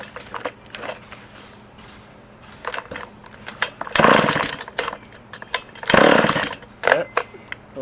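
A Shindaiwa 488 chainsaw running without a muffler is started up: rasping pull-cord tugs and mechanical clatter come first, then two loud, raw, brief bursts of engine firing nearby.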